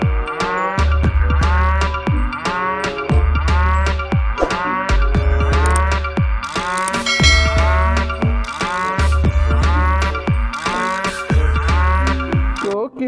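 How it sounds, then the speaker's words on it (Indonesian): A toy cow gives off repeated loud mooing calls in a steady, evenly spaced pattern, joined by toy music and bright clattering tones. The sound stays dense and close throughout, with no talking. "ada sapi."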